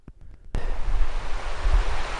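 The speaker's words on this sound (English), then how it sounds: "as you can probably hear, King River is gaining speed" King River picks up speed where a paddling route begins; after a brief quiet moment, a loud, steady rush of flowing water abruptly fills the scene and continues unbroken, close by.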